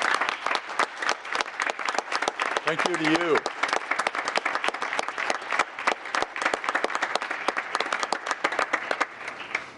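Sustained applause from a city council meeting audience honoring the vice mayor, dense clapping throughout with a brief voice speaking over it.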